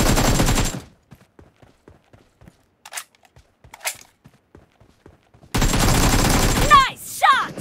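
Loud bursts of video-game gunshots in two dense stretches, at the start and near the end, separated by a quiet gap with faint ticks, with voices talking over the shooting.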